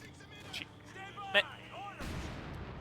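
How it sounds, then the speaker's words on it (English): Mortar shell striking in a Company of Heroes 2 4v4 match, a sharp brief impact burst at mid-clip amid low rumbling battlefield sounds, followed by a broad noisy swell of explosion and gunfire. "Oh, nice mortar hit."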